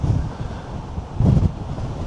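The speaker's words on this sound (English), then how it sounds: "It is really windy today." Wind on a Cheshire hill buffets the microphone in a steady rushing roar, swelling into a stronger gust midway, with no talking.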